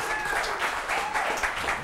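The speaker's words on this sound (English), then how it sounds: "Come on, round of applause." A studio audience at a television talk show applauds steadily throughout, dense clapping at a fairly loud level with a few voices faintly mixed in.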